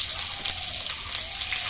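Crushed garlic cloves and dried red chillies fry in hot oil, giving a steady, bright crackling hiss with small pops, close up and continuous, with no one talking.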